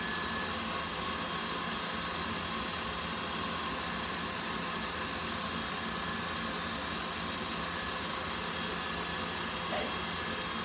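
An electric mixer with a whisk attachment whips in a mixing bowl, a steady, even motor whir and buzz that drones on unbroken for several seconds with no talking.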